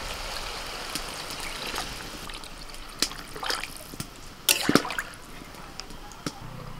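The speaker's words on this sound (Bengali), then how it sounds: "500 গ্রাম চাল আছে আর এই মগটার মাপে কিন্তু 1 মগ চাল, সেই জন্য আমি 2 মগ জল দেবো" Water from a mug is poured into a pot of rice for a village-style pea pulao, giving a steady trickling stream with a few louder splashes near the end.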